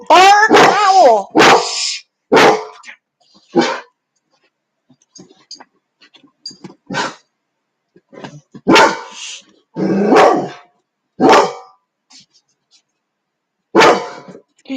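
A pet dog named Copper barks in several short, sharp bursts indoors at home, with people talking between and over the barks.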